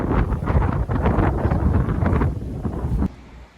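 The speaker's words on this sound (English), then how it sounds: "Sorry about the noise, it's windy," Wind buffets a microphone outdoors on a main road in Fingal Valley, making a loud, gusty rumble that rises and dips for about three seconds before easing off.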